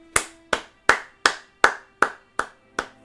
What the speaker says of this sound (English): I gotta give you guys the clap.